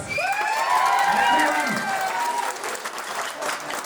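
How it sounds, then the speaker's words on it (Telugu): A crowd applauds after a Sankranthi dance performance, with steady clapping mixed with whistles and cheering shouts. "ఒక్కసారి పెద్దగా క్లాప్స్"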